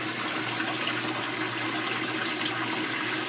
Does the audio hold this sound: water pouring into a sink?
yes